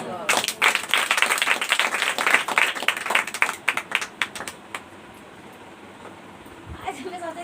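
Church congregation clapping together in a rapid, irregular burst of handclaps that thins out after about four seconds, with a speaking voice heard over it.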